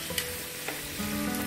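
Tomatoes, pineapple and bamboo shoots stir-fried in a pan for a hotpot broth, giving a steady close sizzle with a few scraping stirs and clinks, no voices.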